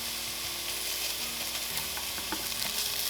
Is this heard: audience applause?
no